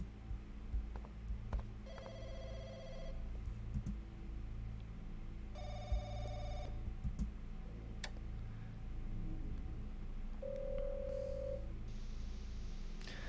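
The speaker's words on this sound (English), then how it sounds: "it's the phone in the public market." A telephone in a public market rings in three separate bursts, each about a second long, with pauses between them, heard over a low background hum and scattered small clicks.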